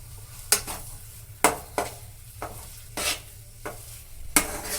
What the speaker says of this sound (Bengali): এটাকে নেড়ে নেড়ে মিশিয়ে দিতে হবে আলুর সঙ্গে